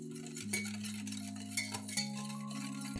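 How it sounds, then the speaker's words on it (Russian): A spoon stirs a dry mix with milk in a bowl, making a close, steady clinking and scraping rhythm that is loud and continuous, with no voices over it. "Опять перемешиваем."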